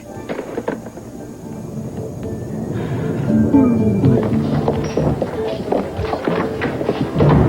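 Steady rain pours down while low thunder rumbles and rolls through, loud and close, in a continuous storm wash.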